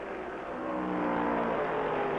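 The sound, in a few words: NASCAR stock car racing past on the track, 1965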